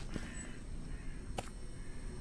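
Crow caws sound in a video game, two short harsh calls spaced about a second apart over a low background hum.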